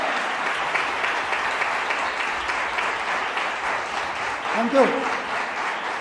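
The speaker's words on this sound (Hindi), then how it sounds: "क्या खुदावंद यीशु के लिए जोरदार तालियां बजाएंगे?" A church congregation claps loudly for Jesus in a steady burst of applause filling the hall, with a brief spoken thanks over it near the end.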